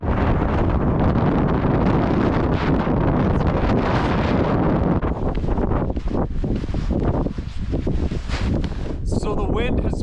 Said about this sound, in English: This wind is getting crazy out here.